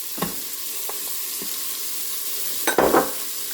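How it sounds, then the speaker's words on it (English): Onions going into melted butter in a pan, a soft continuous sizzle with a few spoon taps and a louder burst of crackling near the end, close up with no voices. "So the butter has melted, so I'm going to add the onions."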